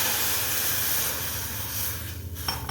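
Plain water is poured into a hot wok for a cumin sherbet, giving a strong, continuous hissing sizzle with steam that fades a little toward the end.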